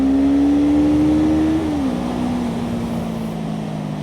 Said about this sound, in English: let me rev it up a bit